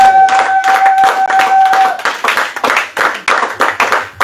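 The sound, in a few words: congregation applauding in church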